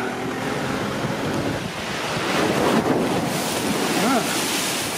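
Sea waves crash and splash against the seafront at Blue Anchor, West Somerset, amid strong, steady wind buffeting the microphone, with a brief voice-like tone near the end.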